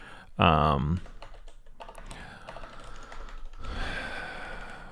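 Computer keyboard typing during a live coding session, a steady stream of soft key clicks running through most of the stretch, with a brief loud non-speech vocal burst near the start.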